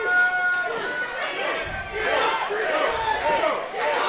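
A wrestling crowd at an indoor event cheering and chanting, a loud massed roar swelling and falling in waves, fairly close, with a commentator's voice running over it.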